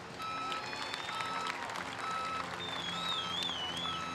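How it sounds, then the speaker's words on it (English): Crowd applause and cheering at a Sydney surf competition finals day, a faint, steady wash of clapping mixed with a background voice and a brief whistling tone. "I think all the competitors deserve a big round of applause."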